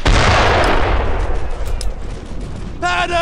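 Bursts of gunfire fill a World War II battle in the video game Brothers In Arms: Earned In Blood, loud and dense at first and then thinning into scattered shots, with no one talking.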